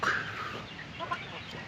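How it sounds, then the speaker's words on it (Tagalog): Chickens cluck and squawk nearby in short bursts, a brief busy flurry of farmyard fowl. "Ito po ang aking mga alagang manok"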